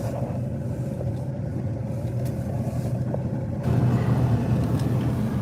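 A pickup truck drives along a snowy road, its engine giving a steady low rumble that swells louder near the end, with no talk over it.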